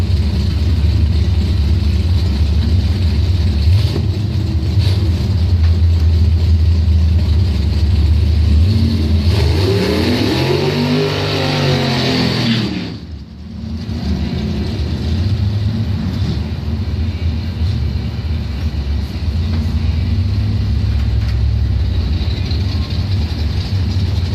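An Oldsmobile doorslammer drag car in round-one racing at a nighttime drag event, its engine droning loud and steady for a long stretch, rising in a revving sweep before briefly dipping and then carrying on.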